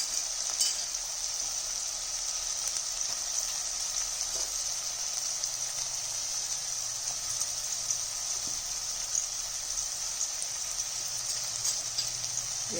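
Onions and green chillies fry in a pan with a steady, bright, hissing sizzle that holds evenly throughout, close and fairly loud, with no talk over it.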